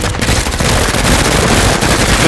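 Dense automatic gunfire from the tactical game Menace, a loud continuous rattling burst filling the whole moment, with no talk over it.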